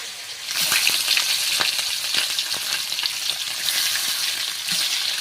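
Pieces of large katla fish fry in plenty of oil in a pan, giving a loud, steady sizzle with scattered sharp crackles and pops throughout, with no talking.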